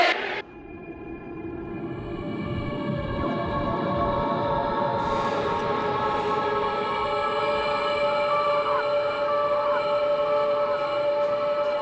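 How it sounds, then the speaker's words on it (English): The 7 subway train rolls along its elevated line through Queens, a steady rumble of wheels on rail with faint high tonal squeals, loud and continuous after a brief softer start. "The 7 train winds over and through Queens like a main cable."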